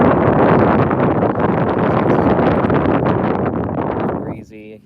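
Breezy wind blowing across a lake on a fishing outing, a steady loud roar of gusts buffeting the microphone that fades near the end.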